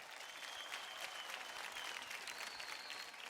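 A studio audience at a Marathi TV dance competition breaks into sustained, even applause, a dense wash of clapping heard alone at moderate volume.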